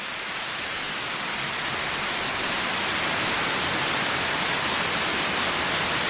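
Kuang Si Waterfall in Luang Prabang, Laos, roars as a steady, loud, hissing wash of falling water, unbroken from start to finish with no talk.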